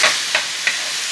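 Tomato broth poured into a hot pan for tomato shrimp rice, giving a close, loud steady sizzle with three short bursts of splashing or stirring.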